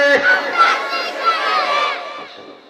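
A large crowd at an outdoor Islamic sermon chanting takbir together in response, a loud sustained unison shout of many voices that rises and then fades out over about two seconds.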